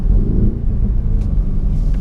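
A deep, steady engine rumble from a Mercedes-AMG GLE63 S performance SUV, loud and close, with a low throaty growl throughout and no talking.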